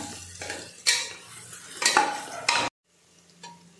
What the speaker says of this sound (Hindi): आता 1 चम्मच टाकते मी लसूण आल्याची पेस्ट, हे पण तेलामध्ये फ्राय करून घेऊया।